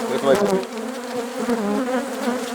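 Steady, close buzzing of many bees, a dense droning hum with wavering pitch that continues throughout without pause.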